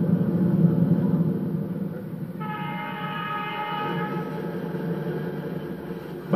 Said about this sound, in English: now with a Union Pacific engine and crew, the Salad Bowl Express climbs toward the continental